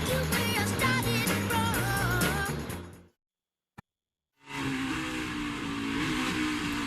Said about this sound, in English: You're watching the NASCAR Cup Series Verizon 200 at the Brickyard